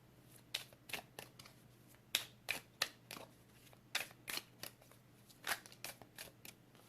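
Tarot cards being shuffled in repeated short riffling bursts, crisp and close, separated by brief pauses over a faint steady hum.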